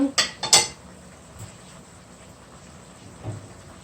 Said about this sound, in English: You cover the pot.